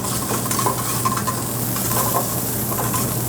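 Shiitake mushrooms sautéing in olive oil with a pinch of pepper, a steady dense sizzle with occasional soft stirring scrapes, close and continuous, with no voices.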